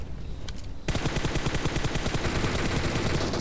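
Rapid automatic gunfire from enemies in a PUBG-style battle royale game fires in a dense, loud burst of evenly spaced shots, following a brief quieter moment with a couple of faint pops.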